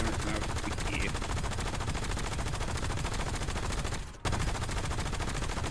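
Dual LMGs in Call of Duty BO7 fire in a relentless, dense stream of rapid shots. The loud, close bursts continue almost nonstop, with only a split-second break near the end before the firing resumes.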